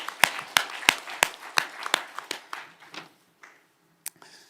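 A church congregation claps during a Korean sermon, with a short run of loud, rhythmic hand claps that thin out and stop, followed by a near-silent pause and one or two stray claps.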